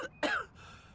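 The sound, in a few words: Sims character coughing in a video game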